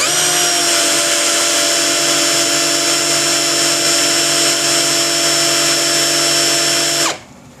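A Doliz power drill runs at full speed during an RPM test, a loud steady high-pitched whine with a constant motor tone that cuts off sharply near the end.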